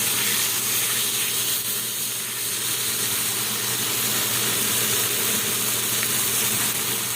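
A sous vide NY strip steak sears in a hot pan for a crust, sending out a loud, constant close-up sizzle and hiss with no break.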